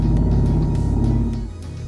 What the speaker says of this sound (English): the option to specify an electric sport sound package, which provides a much louder and a much more emotive experience when driving the car